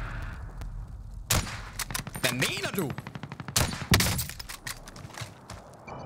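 Rapid gunfire rattles through a battle royale video game in bursts of loud cracks and machine-gun volleys, with several sharp close shots, while players talk over the action.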